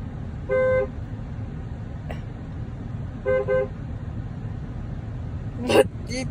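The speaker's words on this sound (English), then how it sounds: "2016 Dodge Grand Caravan horn." A 2016 Dodge Grand Caravan horn gives two short, nasal honks a few seconds apart, heard nearby over steady background rumble, with a brief voice near the end.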